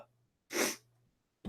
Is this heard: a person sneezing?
yes